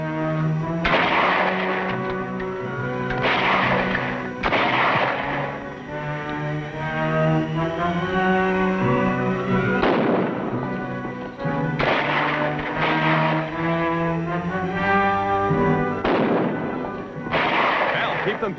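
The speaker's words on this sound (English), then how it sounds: "That's gunfire." Bursts of gunfire crack out in clusters over several seconds, with a dramatic music score running underneath and pauses between volleys.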